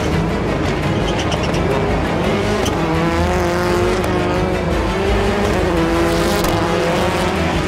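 Race cars battle closely on a circuit, engines howling and shifting pitch as they pass, with repeated sharp tire squeals and skids over a continuous loud roar and no talk.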